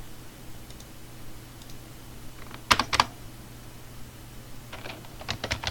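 Short bursts of clicking keys on a computer keyboard, with two quick clusters of keystrokes mid-way and a longer run near the end over a quiet electrical hum.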